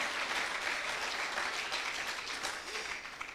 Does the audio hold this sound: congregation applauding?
yes